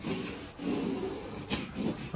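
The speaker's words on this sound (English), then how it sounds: "I'm going to rub it to make sure that it's down." Masking tape being rubbed down firmly onto a textured wall, a steady scratchy rubbing with a few brief stronger strokes, close and alone.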